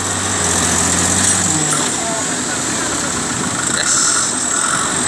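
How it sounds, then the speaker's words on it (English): Tractor and boat motors roar into power at a boat launch during shad season in St Lucia, a steady loud engine drone with a low hum fading early, under constant background noise and a voice. "There the tractors are roaring into power. It's almost floating. There it is floating. Motors are starting."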